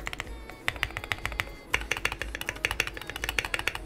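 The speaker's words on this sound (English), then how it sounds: "nobody can be tired of hearing this keyboard" Rapid, crisp clicking of keys on a $500 Glorious mechanical keyboard, close and continuous with uneven rhythm, with no talking.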